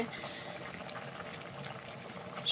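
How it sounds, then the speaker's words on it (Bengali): Food bubbling in a lidded pot on the stove, a soft steady simmering hiss with faint popping, low and continuous throughout. "সুন্দর করে বলক উঠিছে দেখুন"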